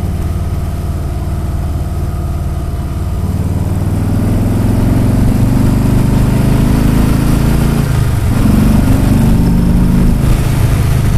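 2018 Harley-Davidson Street Bob motorcycle engine, a loud, steady low rumble under way with a slight rise in pitch, continuous throughout with no talk.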